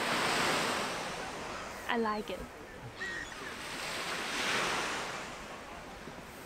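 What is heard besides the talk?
calm sea waves at the beach in Sopot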